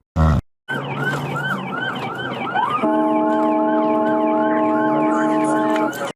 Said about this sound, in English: I love, officer, that you chose the wobbly whooper